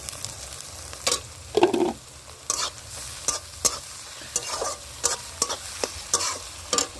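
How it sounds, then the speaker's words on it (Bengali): Onions stir-fried with chopped garlic and ginger in a pan, continuous sizzling broken by repeated scraping strokes of a spatula, close and fairly loud. "এবার এর মধ্যে দেবো আমি দেখো রসুন আর আদা কুচি।"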